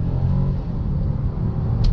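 A 2018 Chevy Impala LT V6 launching from a dead stop on a ramp, its engine giving a loud, steady low rumble heard from inside the cabin, with no talk over it.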